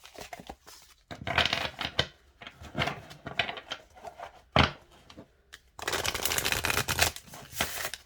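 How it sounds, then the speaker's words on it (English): A deck of oracle cards is shuffled in crisp, riffling bursts with short pauses between, close and fairly loud, no talking. "let's see how it shuffles,"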